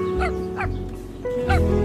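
Cartoonish dog barks from the adventure game Dropsy, a few short yips spaced apart over steady background music, near and moderately loud.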